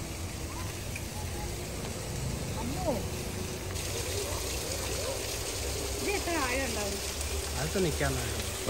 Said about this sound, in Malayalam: വെള്ളത്തിന് നീരൊഴുക്ക് ചെറുതായിട്ടേ ഉള്ളൂ, അത് മുകളിൽ നിന്ന് വരുന്നതാണ്.